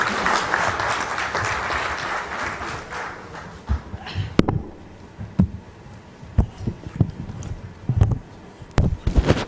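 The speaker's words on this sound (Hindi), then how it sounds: "तालियों के साथ स्वागत किया जाए" An audience at a Goa awards event gives welcoming applause for the governor, dense clapping at first that thins into scattered sharp individual claps.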